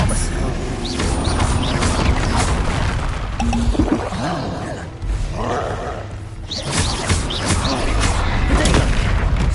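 Bombarda and Confringo spell explosions in Hogwarts Legacy, a dense, loud barrage of booms and crackling blasts overlapping almost without pause, with brief lulls between bursts of magical combat.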